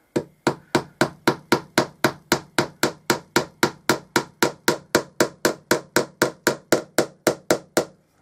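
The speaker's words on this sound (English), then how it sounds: "or we use a hammer." A hammer drives nails into a wooden trailer side panel, a steady, rapid run of about thirty sharp, evenly spaced strikes, close and loud with no talking.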